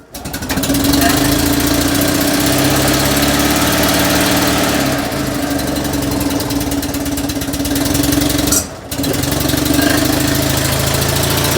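A tuk-tuk engine on a new battery runs steadily at a close, loud idle with a constant buzzing drone, briefly dipping near the end before carrying on.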